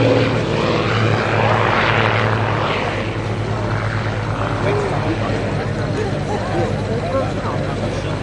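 Red Bull Matadors propeller aerobatic planes fly a close two-aircraft display at Shoreham Airshow, a continuous droning engine roar rising and falling as they pass, with a commentator talking over it.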